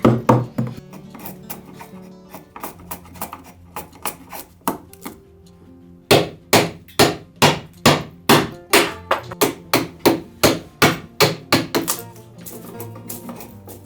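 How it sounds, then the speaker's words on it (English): Hammer tapping knots in cedar wood, a long steady series of sharp knocks, loose at first then settling into an even rhythm, close and loud. "you can crush the edges by tapping them with a hammer."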